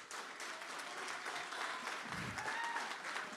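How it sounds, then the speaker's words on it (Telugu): An audience at a film pre-release event applauds with steady, dense clapping for a few seconds, heard from within the crowd. "ఏదో ఒక మూల నుంచి చప్పట్లు కొడుతున్నాడు, నా కోసం వచ్చాడు."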